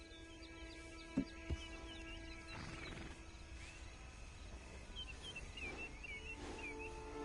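A horse in the Red Dead Redemption 2 game world gives a soft whinny amid ambient outdoor sounds, with a couple of sharp hoof-like knocks early on and distant bird chirps, all fairly quiet.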